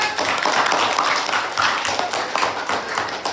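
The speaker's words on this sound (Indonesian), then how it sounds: "Boleh tepuk tangan." Classroom audience applauding group one's poster on mutual forgiveness in an Islamic religious education teaching session; dense, steady clapping from many hands fills the whole stretch at close range, with faint voices mixed in.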